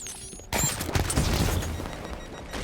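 Gunfire in Halo 5 on the Snowmound Forge map: after a quiet opening, a burst of dense, rapid shots and impacts starts abruptly and rattles on steadily to the end, moderately loud.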